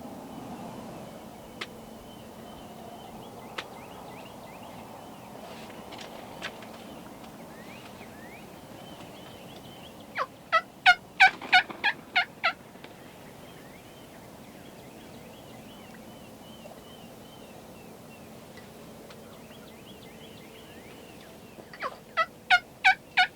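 Wild turkey toms gobble in two loud rattling bursts, each a quick run of several calls, with faint scattered bird clucks and an outdoor breeze between them during a South Texas hunt.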